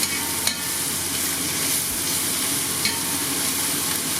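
Vegetables for spicy lamb shanks fry in a hot pan, a steady close sizzle with occasional stirring clatter running throughout, no voices.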